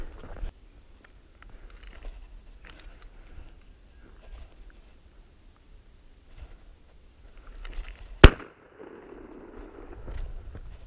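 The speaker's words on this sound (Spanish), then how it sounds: "estamos usando una escopeta con 70 años, a la que el segundo cartucho no le sale, y estamos a un solo tiro" A single sharp shotgun blast from a 70-year-old shotgun while hunting thrushes, one loud crack in an otherwise quiet outdoor scene with faint rustles and footsteps.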